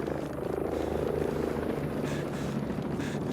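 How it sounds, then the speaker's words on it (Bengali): A helicopter's rotor in the video game Tom Clancy's Ghost Recon Breakpoint thrums steadily and loudly, a continuous chopping drone with no voices over it. "হেলিকপ্টার কে চালাইতেছে না"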